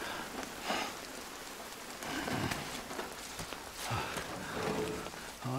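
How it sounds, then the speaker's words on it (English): Steady toxic rain falls across the landscape of the video game Death Stranding, a continuous broadband hiss with scattered droplet patter and a few louder splashes, without speech. "Toxic rain in the Netherlands."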